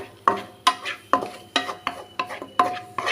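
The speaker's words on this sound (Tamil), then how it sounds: "அதே வானலில் இந்த கோதுமை மாவு எடுத்துருக்கோம் இல்லையா, அதை இதில் ஆட் பண்ணிக்கலாம். ஆட் பண்ணி நல்லா ஒரு 2 மினிட்ஸ் கிளறி விட்டுக்கலாம்." Wheat flour stirred in a wok for Ashoka halwa, about eight sharp, evenly spaced scraping strokes of a spoon against the pan, close and clear, with no talking.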